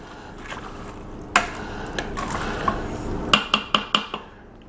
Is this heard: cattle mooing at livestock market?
no